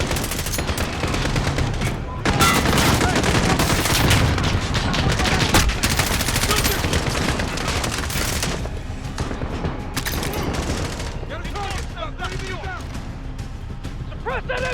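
Sustained automatic machine gun fire rattles through a Modern Warfare campaign firefight, dense bursts layered with other gunshots and explosions, loud and continuous, with soldiers shouting under the din.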